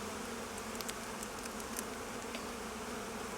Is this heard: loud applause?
no